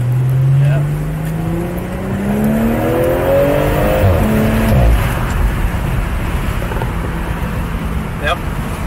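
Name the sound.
Toyota Supra car engine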